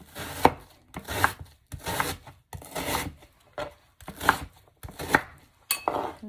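A knife chops through a red onion on a cutting board, about eight distinct close strokes in a steady rhythm with brief pauses between them.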